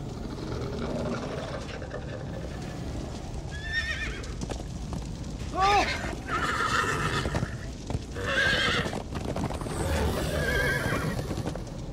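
Horses whinny and gallop in the Minecraft: Story Mode video game. Hoofbeats drum steadily throughout, and several loud neighs break out over the top in bursts.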